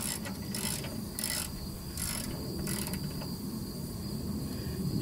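A socket wrench ratchets in short bursts while tightening bolts on a flatbed trailer's air valve, four or five quick clicking runs over steady broadband background noise, no talking.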